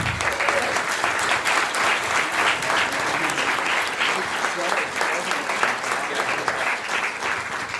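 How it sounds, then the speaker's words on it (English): Audience applause fills a room at a Santa Cruz election forum debating Measure M, a dense, steady clatter of many hands lasting several seconds. "let's give him a round of applause"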